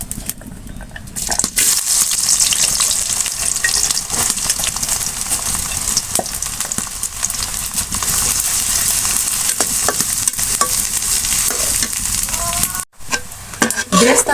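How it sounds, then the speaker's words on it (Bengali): Chopped onion sizzles loudly in hot oil for chicken biryani, a dense, steady crackling hiss with stirring scrapes throughout and a brief dip near the end. "তেল গরম হয়ে গেছে আমি দিয়ে দিচ্ছি পেঁয়াজ কুচি"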